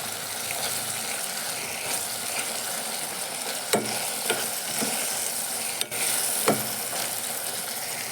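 Onions and tomatoes sauté with a little rock salt in a pan, a continuous sizzle broken by a few sharp clinks and scrapes of a spoon stirring, no talking.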